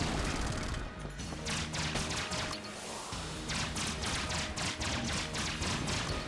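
Rapid Void Core gunfire in Enter the Gungeon, a dense stream of loud, overlapping shots and crashing impacts that runs almost without pause, dipping briefly around the middle before resuming at full intensity.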